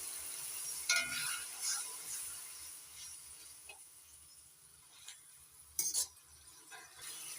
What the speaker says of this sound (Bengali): অল্প অল্প জল দিয়ে মশলাটা কষে নিই